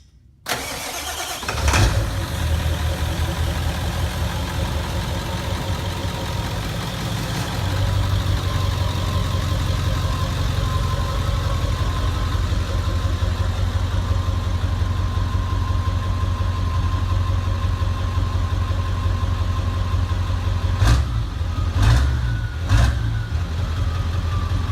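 A 1996 Ford F350 with a 7.3 diesel and a 6-inch exhaust stack starts up and idles, a loud, steady low rumble from close by that runs continuously, with a couple of brief sharp knocks near the end.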